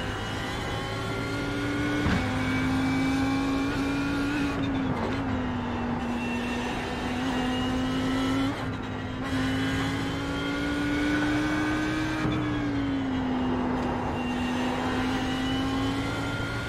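A simulated Audi race car engine in iRacing holds a steady, loud drone for the whole stretch, with pitch sweeping up and briefly dropping at gear changes around the lap.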